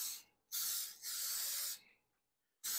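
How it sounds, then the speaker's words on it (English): Cooking-oil spray aimed into a baking pan for banana bread, two loud sustained hissing bursts, the second longer and briefly interrupted, then a pause and the start of a third, close up with no talking. "I have the spray oil, so I'm gonna use this."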